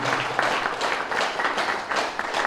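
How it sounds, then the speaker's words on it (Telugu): An audience at a birthday celebration for Patriji in Bodhan claps in a dense, steady burst of applause with rhythmic swells, close and continuous from start to finish. "అందరికి ఒకసారి మనము వాళ్ళందరికీ గట్టిగా క్లాప్స్ కొట్టుకుందాం"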